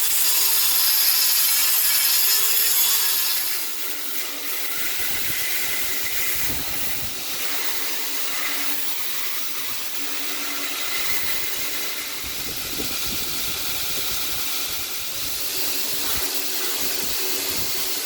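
An abrasive wheel grinds scale off a Damascus seax blade, giving a loud, close, harsh hissing rasp that sustains with uneven scraping surges and a slightly quieter stretch after the first few seconds.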